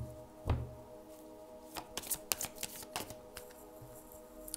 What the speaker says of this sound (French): Je vais bien brasser.